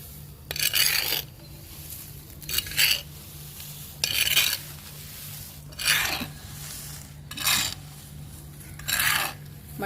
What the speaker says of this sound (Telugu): మట్టిని బాగా కలపాలండి